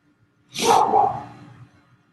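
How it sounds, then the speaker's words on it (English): A single bark from a dog named Charlie, close and fairly loud, with a short rough onset and a tail that fades within about a second, otherwise quiet around it. "That is my dog, Charlie, barking"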